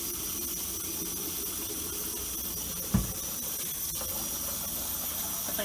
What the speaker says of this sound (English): I'm going to start by washing my hands in hot water